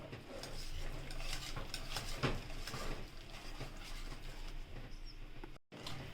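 A whisk clinks and scrapes against a bowl as egg is beaten into hot churro dough, a quiet, irregular patter of metallic taps and sloshing.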